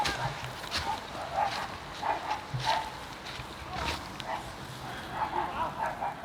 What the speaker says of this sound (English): There's the dog again.